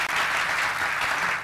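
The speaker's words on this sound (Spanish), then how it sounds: "Un aplauso de ofrendas" Church congregation applauding, a dense, loud burst of clapping from a crowd that stays steady throughout.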